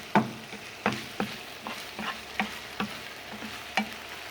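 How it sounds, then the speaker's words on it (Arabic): A spoon stirs peas with onion and bell pepper frying in a pan, giving a faint sizzle beneath about nine distinct scraping strokes at an uneven rhythm. "هنبدأ نحرك عبال ما اللي هو البازيلا تاخد شوية مع البصل والفلفل الرومي."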